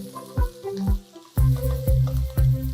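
Oil sizzles and crackles in a pan as a bread upma tempering fries, with a few sharp metallic clanks of a spoon stirring and tapping, close by and fairly loud.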